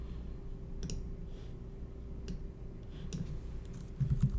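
Light clicks of someone typing on a computer keyboard in a quiet room come in sparse, irregular taps over a low steady hum, with a slightly louder cluster of clicks at the end.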